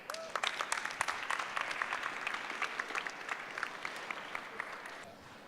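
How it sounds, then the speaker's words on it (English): An audience at a fashion sustainability thinkathon applauds a team taking the stage to pitch, a fairly distant, even burst of clapping that fades out near the end. "Stage is yours. Big applause,"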